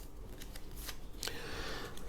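Tarot cards shuffled and drawn by hand, a busy riffling and flicking of card stock with a sharper snap midway, close and continuous with no voice.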